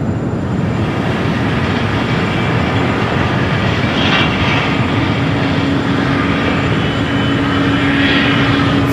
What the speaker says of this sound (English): Flight coming up from Seoul, flight 21-3.